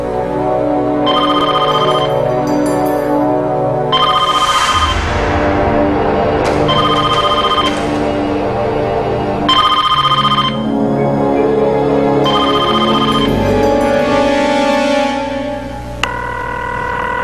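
An electronic telephone bell rings loudly in repeated bursts, about seven rings with short pauses between them, close by, with a low hum of music in the background.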